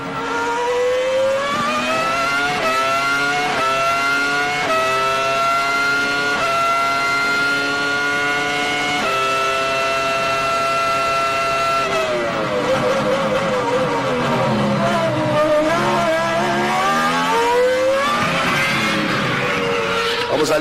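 Formula 1 cars at the Austrian Grand Prix racing past, loud high-pitched engines screaming through gear changes, rising and falling in pitch as they pass, with a commentator talking over them.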